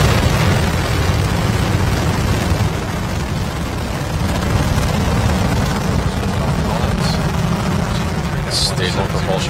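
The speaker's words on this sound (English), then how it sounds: "Ignition. Liftoff of Falcon 9." SpaceX Falcon 9 rocket lifting off on a satellite launch, a continuous deep broadband roar filling the whole stretch at steady loudness, with a launch commentator's voice heard over it.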